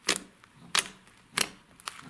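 Four sharp, crisp clicks from crunchy slime, spaced evenly apart, close and fairly quiet, with brief sticky crackle between them.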